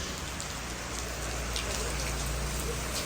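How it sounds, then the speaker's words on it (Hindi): Heavy monsoon rain in Karachi pours down steadily, a dense, constant hiss of drops drumming on surfaces nearby, with no voices. "तो भाई हो रही है बहुत बारिश ना"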